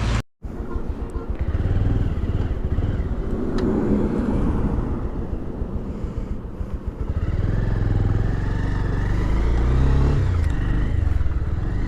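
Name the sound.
motorcycle riding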